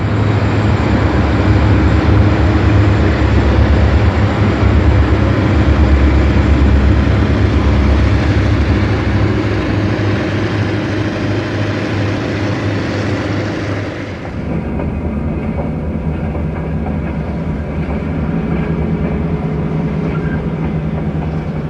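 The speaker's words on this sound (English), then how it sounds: "Diesel locomotives, which had already displaced steam power, were taking on an even more highly visible role on the Milwaukee Road" Milwaukee Road diesel locomotives, including classic covered-wagon units in freight service, rumble loudly and steadily with a heavy low engine drone and rail noise, shifting to a slightly lighter running sound partway through, on an old film soundtrack.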